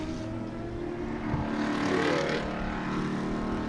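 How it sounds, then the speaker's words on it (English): A noisy Mazda race car at Sebring roars past at racing speed, its engine note swelling toward the middle and fading, with other track engine noise underneath and no talk. "That's that noisy Mazda."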